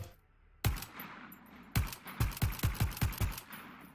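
A weapon fires in the video game Voidtrain, first a single loud shot, then a sharp shot followed by a quick series of about six evenly spaced booming shots, close and dominant.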